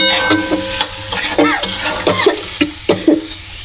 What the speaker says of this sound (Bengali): ভাজতে ভাজতে এই তো লাল পড়া হয়ে আসছে